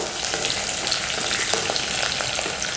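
Mustard seeds, garlic and onion fry in hot oil for a dry fish curry, giving a loud, dense sizzle with scattered crackles and pops throughout and no voices.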